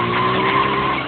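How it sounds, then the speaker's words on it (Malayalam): A scooter engine revs up steadily as the throttle is slowly twisted, a close, continuous buzzing whine with no pauses and no voices over it. "ആ ആക്സിലേറ്ററെ പതിയെ ഒന്ന് തിരിക്കും"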